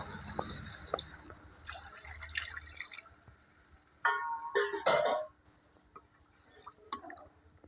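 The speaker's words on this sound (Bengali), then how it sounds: "এখন জল দিয়ে দিলাম পরিমাণ মতো" Water is poured into a cooking pan for a soybean and chana dal kofta curry, heard as close splashing and trickling in uneven bursts, then a quieter dribble near the end.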